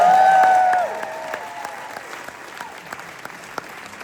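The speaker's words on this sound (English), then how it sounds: "Big round of applause to Holiday Theater for having us tonight." Audience at a live concert at the Holiday Theatre in Denver claps and cheers loudly at first, then the applause fades into scattered claps while a sustained tone lingers.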